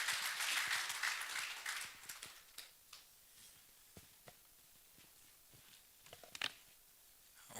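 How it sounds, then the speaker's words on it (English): Audience applause at a global health fellowship graduation ceremony, a dense burst of clapping that fades quickly into a few scattered claps and taps over a quiet room. "a big round of applause for Dr. Landry"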